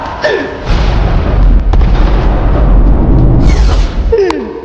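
A loud, close explosion booms and rumbles for several seconds, with deep low-end roar and crackling bursts throughout.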